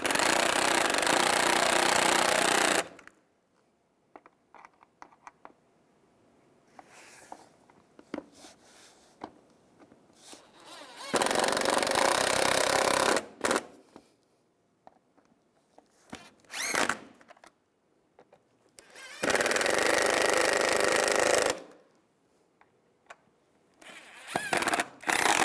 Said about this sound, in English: Now tighten the screws down.